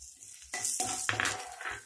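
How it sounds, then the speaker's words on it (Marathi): Onions and curry leaves hit hot oil with a sudden loud sizzle and crackle that keeps hissing, with a few clinks of a spoon in the pan. "त्यामध्ये फोडणीसाठी आपण कांदा आणि कढीपत्ता घालतो आहे"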